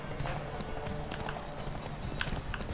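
Horse hooves clip-clop at an easy, steady pace in a video game horseback ride, with soft rhythmic thuds over a low ambient background, a couple of brighter accents and no talk.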